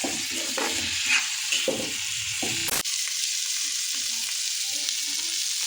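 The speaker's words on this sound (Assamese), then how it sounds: "মই হাই ফ্লেমতে ৰাখি ভাজি আছোঁ" Silkworms fry over a high flame, crackling and sizzling loudly and continuously up close, with a brief clatter of stirring partway through.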